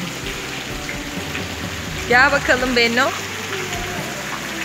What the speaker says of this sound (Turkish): Şelale.